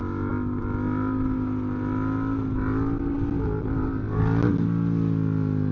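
A restricted A2 Yamaha MT07 motorcycle engine drones steadily in second gear during a wheelie, with the pitch rising briefly near the end as the throttle opens, mixed with wind rush; no talking.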